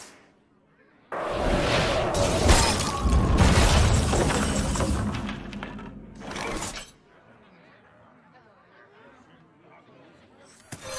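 Card explosion effect in a Hearthstone match: a sudden loud blast with shattering crackle that sustains for several seconds, then a second short burst before fading to quiet game ambience.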